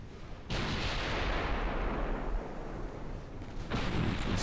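In a naval warfare video game, enemy ships fire their guns: a heavy boom opens into a long rumbling roar, followed by a second loud blast near the end.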